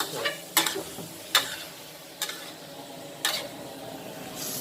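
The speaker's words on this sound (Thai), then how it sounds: "จากนั้นเราก็ใส่ปลาหมึกลงไปเลย" Squid dropped into a hot pan for stir-fried squid with holy basil, hissing steadily while a spatula scrapes and clacks against the pan in sharp, spaced strokes.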